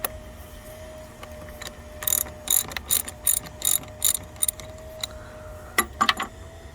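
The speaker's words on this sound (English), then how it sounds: "To disconnect the battery you'll need a 10mm socket." A hand ratchet with a 10mm socket loosening a car battery terminal on a Volkswagen Routan, giving several short bursts of quick metallic clicking close by, with quiet gaps in between.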